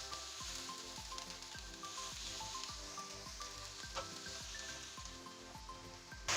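Spring onions sizzle and fry steadily in a pan, a close, continuous crackling hiss with a faint rhythmic stirring or scraping pulse underneath.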